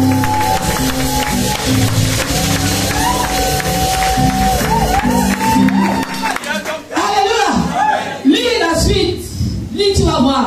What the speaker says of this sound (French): Applaudissez pour Elisabeth.